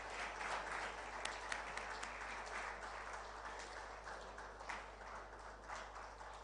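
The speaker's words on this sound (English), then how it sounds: "ladies and gentlemen, if you could, with a round of applause, please help me welcome to the stage Mr." Conference audience at a tech week event in Nigeria applauding to welcome a speaker to the stage, a faint, distant, continuous patter of claps over a steady low hum.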